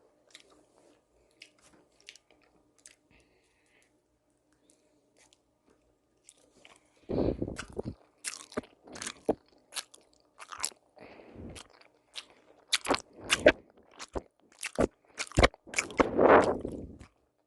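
Pork-belly-shaped jelly being chewed up close: after a quiet opening, repeated soft bites, squishy chewing and crunchy smacks follow in an uneven rhythm, loud and intimate with no talking.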